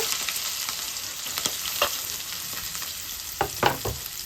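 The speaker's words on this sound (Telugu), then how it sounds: "ఆయిల్ వేడయింది. కట్ చేసిన పచ్చిమిర్చి వేసుకోవాలి." Chopped green chillies fry in hot oil in a kadai for a gongura prawn curry, giving a steady close sizzle with a few sharp pops and crackles spread through, no voices.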